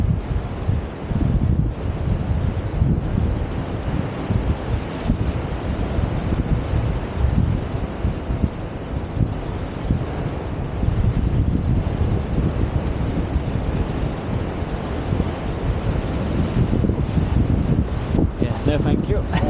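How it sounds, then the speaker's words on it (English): Strong wind buffets the microphone on the Cornish coast near Botallack Mine, a loud, continuous roaring rumble with gusty swells and faint rustling throughout, and no clear voice heard. "Sorry about the wind."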